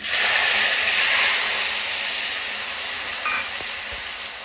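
Turmeric-tinted water poured into hot mustard oil in a pan while cooking a sour katla fish dish: a loud, steady hiss of sizzling that bursts in at once and slowly fades, with a few faint clinks near the end.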